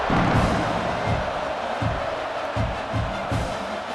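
Football stadium crowd at an Oklahoma Sooners versus LSU Tigers college game, cheering before a kickoff: a dense, continuous roar with periodic low booming thumps, loud and sustained.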